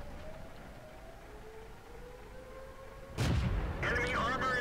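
Tank video game battle: a low hum of engine and ambience, then a sudden heavy cannon blast followed by a rumbling tail, fairly close and dominant.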